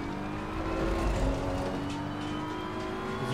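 GT4 race car engines in a racing video game at Monza, a steady whirring drone that rises as cars accelerate and pass, continuous and fairly faint with no voices.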